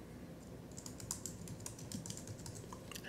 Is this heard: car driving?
no